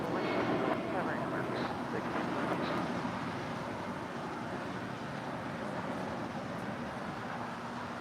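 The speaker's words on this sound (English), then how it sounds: "Now departing here on the south side is American Airlines Flight 413 going to Phoenix. It's a 21-year-old Airbus A319." An American Airlines Airbus A319, 21 years old, departs at LAX with a steady, broad engine roar that fades slightly over several seconds. Voices talk over the roar.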